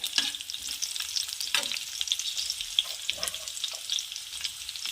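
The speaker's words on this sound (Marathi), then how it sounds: "आता मिरची ॲड करत आहे तो तीन ते चार सेकंद पकू द्यायचं आहे याला" Green chillies crackle and sizzle in hot oil with ginger pieces for street-style veg dry Manchurian, a close, busy frying hiss with sharp pops throughout and no talk.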